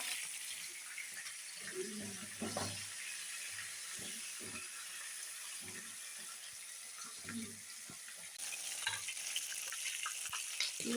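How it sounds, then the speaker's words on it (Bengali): Soft, continuous sizzling of fish frying in hot oil with occasional low clinks and bubbling, fairly quiet and steady throughout. "মাছগুলো ভাজা হচ্ছে"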